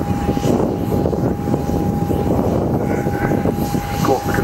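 An Airbus A400M military transport plane at the Fairford airshow gives a loud, steady propeller-engine drone with a whining tone, heard continuously and fairly close, with crowd or commentary noise mixed underneath.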